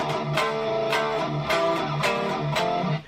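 Slow, heavily distorted electric guitar chords, strummed in a steady, even rhythm with ringing sustain, loud and close with no voices.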